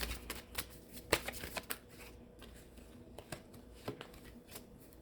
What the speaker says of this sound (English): And I'm going to get one more card.